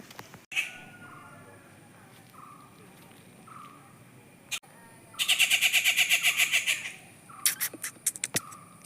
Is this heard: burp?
no